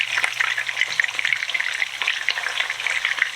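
Meatballs sizzle and crackle steadily in a frying pan, with small knocks as they are carefully flipped, close and fairly loud with no talking.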